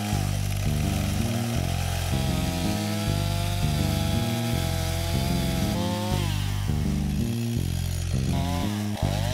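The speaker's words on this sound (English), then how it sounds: "So I cut them up a little more. I do my best to avoid cutting into the dirt stuck on the roots, as it will thaw my chain in no time." A chainsaw cuts up dirt-caked tree roots, loud and close. The engine rises and falls in rapid revving bursts as the chain bites in and eases off, over about nine seconds.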